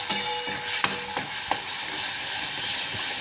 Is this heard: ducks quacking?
no